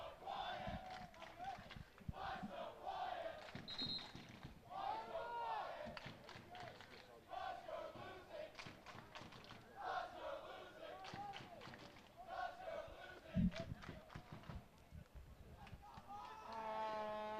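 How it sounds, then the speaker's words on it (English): Soccer fans in the stands at a high school match cheer and chant in rhythmic bursts, a crowd roar rising and falling with scattered shouts and a few sharp thumps, some talk mixed in. "And the Red Arm was just cheering,"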